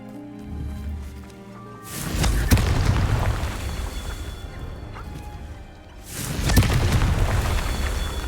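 Two booming explosions from the Confringo fire spell in the Hogwarts Legacy video game burst out a few seconds apart, each a loud blast that fades into a rumbling tail, over soft game ambience.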